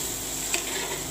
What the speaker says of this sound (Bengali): এগুলোকে ভালোভাবে নেড়ে নিব।